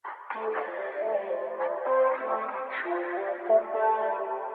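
Soft synth pad using the Lush preset, washed in deep reverb and slow effects modulation, drifting through sustained chords with gentle swells, quiet and alone.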